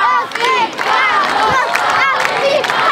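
An audience at a gladiator arena show chants the fan chant "Afrikanus" together, loud, rhythmic shouting voices repeating in a crowd with cheering swells over about three seconds.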